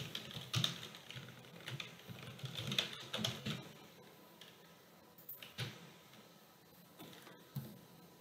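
Typing on a computer keyboard: quiet, close clicks of keys pressed in short irregular bursts separated by brief pauses, with no voices.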